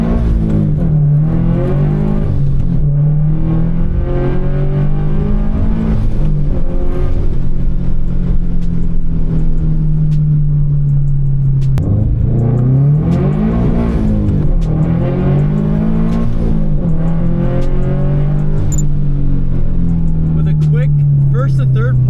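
A turbocharged car engine drones loudly from inside the cabin during full-throttle pulls, its pitch repeatedly climbing and dropping through gear changes, while a person talks over it throughout.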